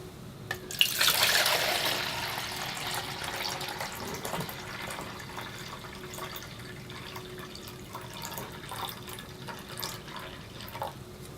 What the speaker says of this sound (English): Fill the samples to the 1 litre mark.